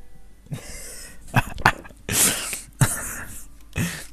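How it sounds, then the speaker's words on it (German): A person sneezes several times in a row, with sharp, close bursts of breath and snorts between short pauses, during a German Minecraft gaming session. "ich niesen muss, das ist immer so witzig"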